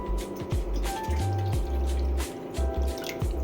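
Water poured from a bowl into a pressure cooker holding hyacinth beans (avarekalu) for sambar makes close, gurgling splashes and drips that come in short uneven bursts, with no talking.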